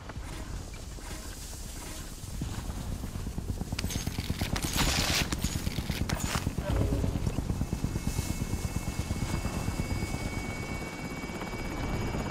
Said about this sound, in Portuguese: Helicóptero em posição.